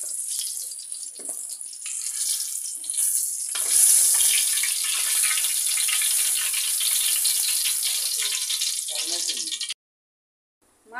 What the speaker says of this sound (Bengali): এবার আমি সবগুলো মাছ ভেজে নিব